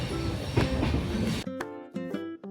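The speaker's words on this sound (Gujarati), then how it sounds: "ટ્રેન ખાલી છે, ટ્રેનમાં કોઈ નથી।" An empty passenger train running on the line toward Jammu, a steady rumble of cars that breaks at the end into separate rhythmic clacks and tonal screeches from the wheels, close and fairly loud.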